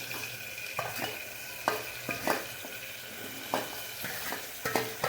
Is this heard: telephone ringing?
no